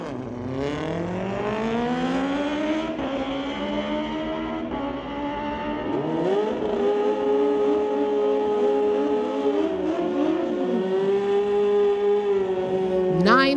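A 2005 Suzuki GSX-R and a 2012 Kawasaki scream down a drag strip, high engine notes climbing through rapid gear shifts, loud and sustained, with an announcer talking in the background.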